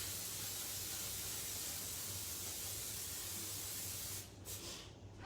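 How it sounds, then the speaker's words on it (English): Cooking spray hissing onto a baking pan, one long steady spray lasting about four seconds before cutting off, close and quiet. "I'm going to spray it as I did the other one"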